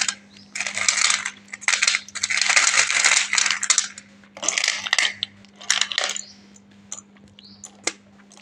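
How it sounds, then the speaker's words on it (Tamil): Broken pieces of thin slate pencils rattle and clink as they are handled and poured, bursts of crunchy clattering close up over a steady low hum, ending in scattered light taps. "ஸோ தின் ஸ்லேட் பென்சில் ப்ரோக்கன்ஸ் எல்லாமே நம்ம வந்து எடுத்து வச்சுருக்கோம்."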